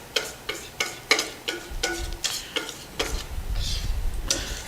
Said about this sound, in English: you see that it starts to sizzle and becomes brown around the outside almost immediately